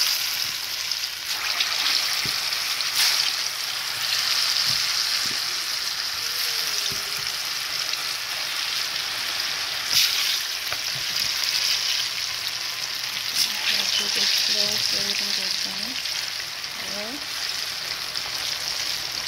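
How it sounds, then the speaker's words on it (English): Snapper fish frying in oil gives a steady, even sizzle and hiss that carries on without a break, with a few faint clinks and soft voices in the background. "I'm just gonna let it fry for 3 minutes"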